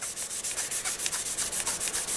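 Fine-grit sandpaper rubbing along electric guitar frets during polishing, a steady back-and-forth scratchy hiss with a regular stroke rhythm, close and moderately quiet, no voices.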